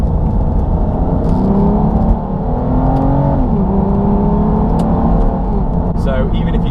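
A 6-litre V12 Aston Martin DB9 from 2005 pulls hard under acceleration, its loud engine note rising and shifting through gears with steady drone close by, while a voice talks over it.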